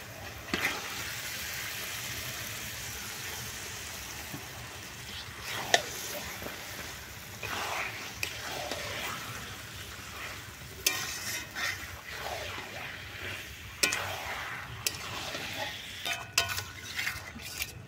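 Marinated chicken frying in a thick cooked masala, sizzling steadily and close while a utensil stirs and scrapes the pan, with occasional louder clinks against the metal.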